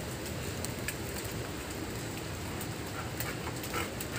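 Steady rain pours down outdoors, a dense, continuous hiss of drops striking surfaces with scattered louder patters, filling the whole stretch evenly with no voices.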